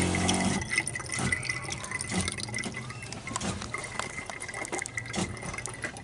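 Water runs steadily from a sink faucet, fed by a 12-volt pump, as a continuous close hiss and gush with small splashing fluctuations and no speech.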